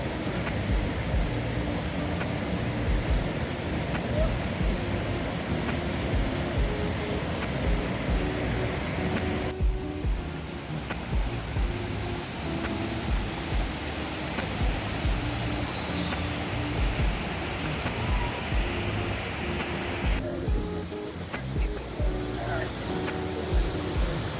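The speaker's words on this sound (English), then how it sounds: "the spraying of the water." Steady broadband rush of spraying water from Dunn Falls, Portland, Jamaica, fills the whole stretch, loud and continuous, with brief shifts in texture partway through.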